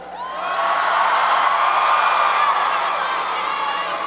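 A large crowd cheers and shouts inside the auditorium at the University of Central Florida ahead of President Obama's speech, a dense, sustained roar holding steady for several seconds.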